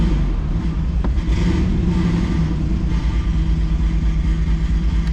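A vehicle engine idles steadily, close and loud, with a low rumbling drone and a brief knock near the start; the car has bad brakes.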